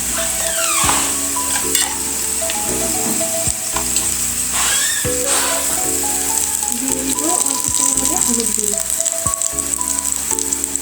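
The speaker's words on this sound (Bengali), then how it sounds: "দিয়ে দিচ্ছি আস্ত জিরে দিয়ে দিয়ে একটু ভেজে নিব আমার পেঁয়াজ জিরাটা ভাজা হয়ে গেছে" Chopped onion and whole cumin seeds fry in hot oil for a carrot and potato bhaji, giving a steady, loud, close sizzle that runs throughout with occasional stirring scrapes.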